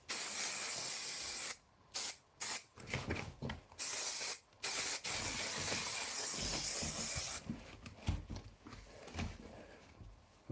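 A spray can hisses in several bursts, starting with one long spray, then short separate puffs, then another sustained spray, loud and close with no talking.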